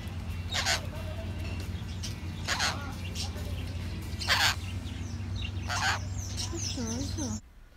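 Geese and other fowl honk and squawk in loud bursts in a restaurant backyard scattered with fallen acerolas and mangoes, with a steady low hum underneath and a voice talking over them.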